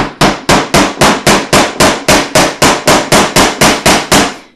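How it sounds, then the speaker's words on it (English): A finishing hammer drives a finish nail with about seventeen sharp, evenly spaced blows over a few seconds, each strike loud, close and ringing briefly before the next, with no talking. "you can see how your finishing hammer goes with that"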